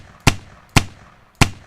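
Designed shotgun blasts from a weapon sound design tool: three sharp, punchy gunshots spaced about half a second apart, each a loud crack followed by a short low tail, alone without speech.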